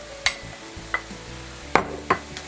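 Two garlic cloves drop into a pan of sizzling mushrooms with plenty of liquid, bringing a soft, steady frying hiss punctuated by a few sharp clinks and stirring taps from a utensil against the pan.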